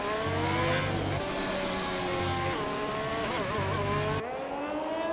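A race car in rFactor accelerates hard down the start-finish straight, its engine note climbing steadily through the gears, loud and continuous with brief shifts.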